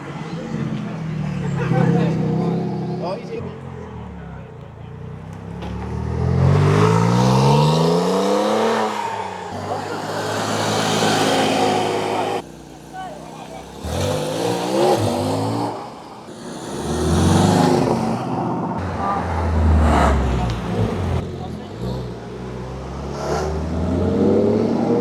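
A Porsche leaving a Cars and Coffee meet accelerates through rising and falling engine revs and gear changes, loud and fairly close, while people chatter nearby.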